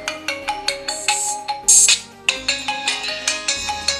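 A Lenovo K8 Note phone plays its ringtone through its loudspeaker with Dolby Atmos on, a loud, bright, repeating electronic chime with short rhythmic notes and one brief burst in the middle.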